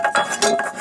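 Two metal cooking pans clink together as they are handled in a camper kitchen, giving a few close, sharp metallic knocks within about a second.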